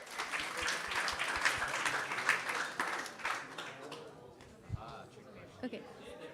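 A youth gathering audience claps in a short burst of applause that fades out, followed by a few scattered claps and a brief voice.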